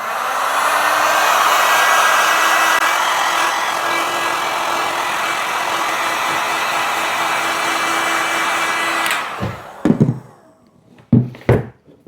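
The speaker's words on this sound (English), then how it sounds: "I'm just going to cheat it a little bit with the heat gun to dry it out" A heat gun blows a steady, loud, whooshing hum over dyed leather Loake shoes for about nine seconds, then cuts off, followed by a few close knocks and handling clatters.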